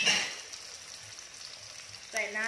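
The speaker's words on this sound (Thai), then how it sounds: "ผัดแครอทให้ค่อนข้างสุกนะคะนิดนึงเราก็จะเอาเต้าหู้ลงไปค่ะ" Carrots and tofu being stir-fried in a pan give a low, steady sizzle with faint scraping; near the end a voice begins speaking over it.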